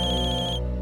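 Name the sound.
phone ringing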